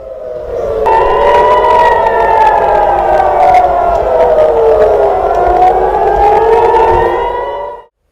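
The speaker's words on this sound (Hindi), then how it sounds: "तेल अवीव और दूसरे शहरों में आज दिन भर सायरन बजते रहे" A loud civil defense air raid siren wails for several seconds in Tel Aviv during the Iran–Israel war, its pitch slowly rising and falling, with faint crowd noise beneath it.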